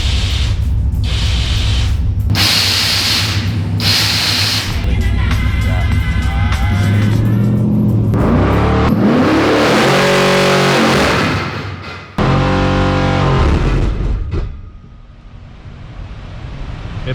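A car engine with nitrous and a Holley Terminator X setup revs hard on a dyno in several loud bursts, then winds up in a long roaring pull that cuts off abruptly, followed by a fading rumble.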